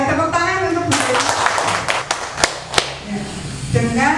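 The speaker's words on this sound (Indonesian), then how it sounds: "tepuk tangan untuk Bu Esti" Applause for a teacher at a training session: a few people clap in scattered, light bursts, mixed with talk through most of the clip.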